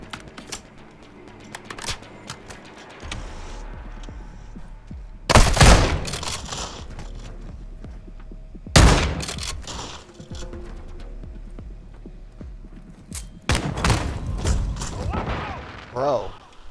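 Gunfire in the Call of Duty Modern Warfare 2 campaign: loud bursts of automatic fire and booms erupt several times over mechanical game sounds, with someone talking intermittently between the bursts.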